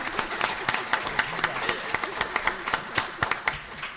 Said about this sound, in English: Let's give our Eastern Shore delegation another round of applause for them coming here this morning.